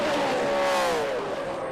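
Saab race car in a National Sports Sedans race at Sandown, fitted with a Richard Childress Racing engine, giving a loud sustained engine note that sweeps slightly downward as it passes, with crowd and track noise behind it.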